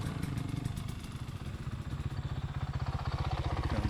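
A single-cylinder thumper dirt bike on a single-track trail ride, its engine thudding in a steady, close, loud pulsing beat that quickens slightly as it pulls away.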